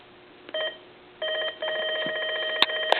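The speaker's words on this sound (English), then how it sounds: "if you hear the transistor checker" A transistor checker used during a telephone speakerphone repair sounds in short electronic ringing tones with a steady harmonic pitch, starting and stopping in a few bursts with brief clicks. It comes through clearly against a quiet background.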